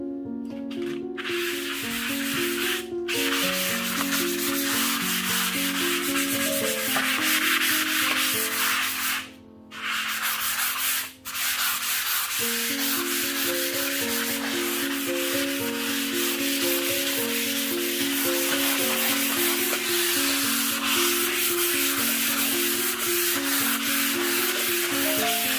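Light hand sanding of a painted kitchen cabinet surface between coats, a steady close rubbing scratch in repeated back-and-forth strokes with two brief pauses, no voices.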